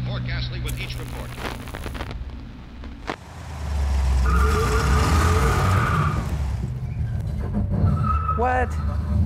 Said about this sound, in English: When I did my burnout